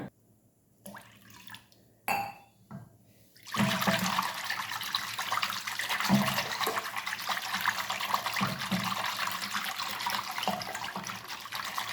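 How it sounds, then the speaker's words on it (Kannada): Water is poured into a bowl of curd to make buttermilk for a ragi drink: a few soft knocks first, then a steady, close splashing pour that runs unbroken for about eight seconds, with no talking. "ಸ್ವಲ್ಪ ನೀರು ಹಾಕ್ಕೊಡ್ತೇನೆ ಇವಾಗ"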